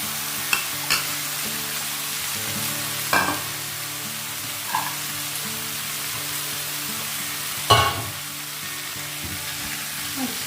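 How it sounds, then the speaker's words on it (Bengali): Chopped bottle gourd frying in a pan for a prawn dish, a steady low sizzle with a few sharp scrapes and knocks of the spatula stirring it at spaced intervals, close and without speech. "লাউ পুরোটাই দিয়ে দিলাম। এবার একটু নাড়াচাড়া করব।"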